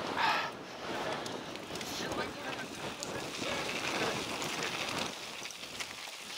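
Strong wind buffets the microphone outdoors in a steady, loud roar of broadband noise lasting throughout, with gusting fluctuations and no clear speech.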